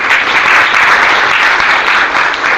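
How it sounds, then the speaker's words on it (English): An audience at a teachers' workshop claps steadily in a dense, continuous burst of applause, loud and close, filling the room without pause. "Can you clap for him once?"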